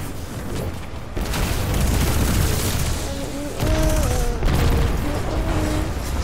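Dense, loud booming blasts and gunfire from the video game Destiny 2 Forsaken, a sustained roar of explosions with faint tonal effects layered through it.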